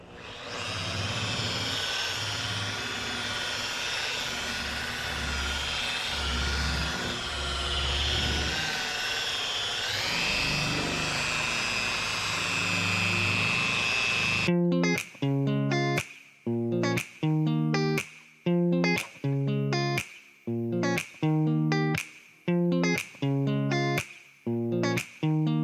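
Polishing wheel buffing scratches out of an overland vehicle's paint, a continuous whirring drone with a pitch shift midway, then abruptly giving way to a run of rapid rhythmic clicking bursts.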